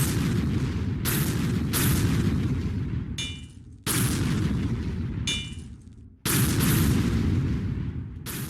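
Rocket launcher explosions in the Roblox-style shooter Combat Initiation, three heavy roaring blasts each ringing out for a couple of seconds before fading, loud and close, with no talk.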